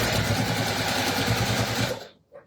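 A sewing machine stitches across a bag lining, running loud and close with a fast, steady mechanical chatter for about two seconds before it stops abruptly, leaving a brief faint rustle.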